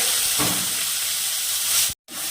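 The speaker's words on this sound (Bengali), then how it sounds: "পেঁয়াজটা হালকা লাল করে ভেজে নেব।" Chopped onion frying in hot oil with black cumin in a wok, a steady close broadband sizzle that runs evenly, with a brief stir-like burst early and a sudden short dropout near the end.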